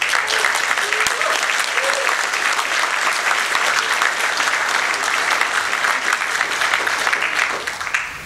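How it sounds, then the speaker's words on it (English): An audience claps loudly and continuously at a horror-hosting tribute event, a thick sustained roar of hands with a few scattered louder claps, fading slightly at the very end. "I think you should applaud yourselves today."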